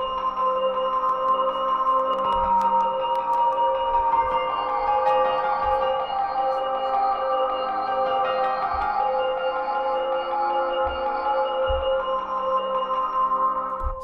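On a Maschine, an arpeggiated bell sound cycles back and forth between two notes in a steady, looping pattern over a soft, sustained pad, with faint low thumps pulsing underneath.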